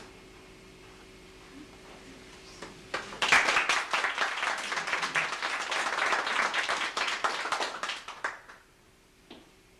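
Applause from an audience swells in after a quiet start, a dense crowd of clapping hands that holds steady for several seconds before fading out.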